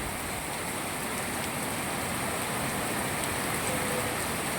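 Heavy monsoon rain pours down in a flooded market in Moti Gop, Gujarat, a dense, steady, loud hiss of rainfall with no break and no talk.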